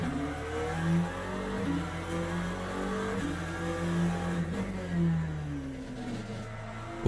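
McLaren race car in Le Mans Ultimate, a continuous engine drone that rises and falls as it revs through gear changes, with a steady mid-pitched whine running throughout and no talking.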